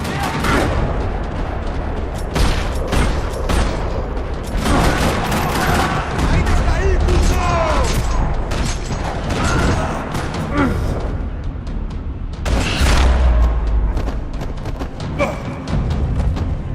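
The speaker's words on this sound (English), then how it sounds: "Another parking lot rattling with gunfire." Gunfire rattles across a parking lot in the video game Max Payne 3: dense, loud volleys of rapid shots and booming impacts that keep going for the whole stretch, with voices shouting in the mix.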